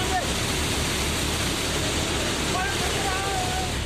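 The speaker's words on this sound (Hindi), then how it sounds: "मटमैले पानी का रेला पहाड़ियों से नीचे आ रहा है।" Muddy floodwater after a cloudburst in Chamba, Himachal, roars down hillsides: a loud, continuous broadband rush with no breaks, filling the whole clip.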